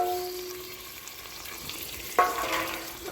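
Tomatoes frying in a pan for a farmhouse party meal, heard as a steady close sizzle with a brief clatter of stirring partway through.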